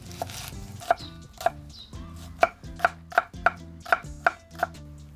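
A knife chops red onion on a cutting board in a kitchen, about a dozen crisp, evenly spaced chops in a quick steady rhythm, close and clear with no talking.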